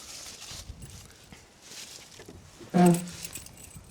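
A short burst of metallic jingling from a bunch of car keys for a 1967 Opel Rekord coupe being shaken, standing out briefly near the end against quiet background noise.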